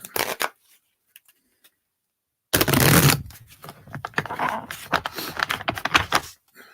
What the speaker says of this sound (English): I still not good at shuffling, but they are tarot cards, a little bit bigger.